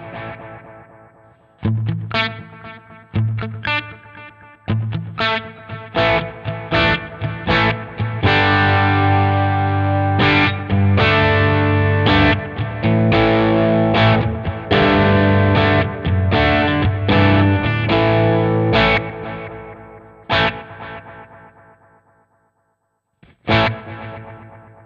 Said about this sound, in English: A multi-tape delay that simulates a huge four-headed tape echo machine.